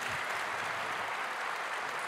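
An audience at a French conference plenary session applauds two speakers, a short, even, continuous patter of many hands clapping throughout.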